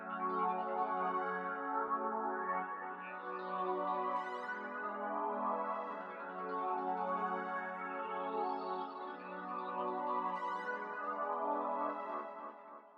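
Spacey synth pad melody built in FL Studio with the low end rolled off and wide stereo, sustained layered chords swelling and fading in slow waves, with glitchy bright flourishes, no voices.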